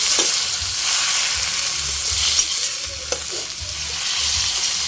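Tomatoes sautéing in a pan, a loud continuous sizzle with intermittent low scraping of a spoon stirring, close and steady throughout.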